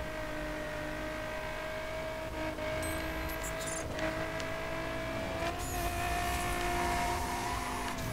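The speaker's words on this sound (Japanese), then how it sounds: "やべ、後ろから来てる音がする。" Another car closing in from behind during a busy-traffic race in The Crew, a steady engine drone with whirring tones building gradually under the game's constant road noise, no talk.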